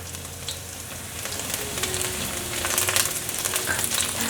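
Ginger strips stir-fry in a wok for a vegan dish, with a bright crackling sizzle and scattered spatters that grow busier toward the end, close and unaccompanied by speech.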